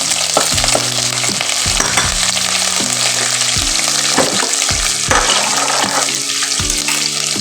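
Peanuts and green chilies fry in a pan, a loud steady sizzle and crackle with a few stirring scrapes, close up over background music, with no talking.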